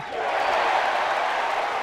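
A dense crowd roar swells steadily at a college baseball game, a broad wash of cheering voices filling a large open stadium, continuous and fairly loud.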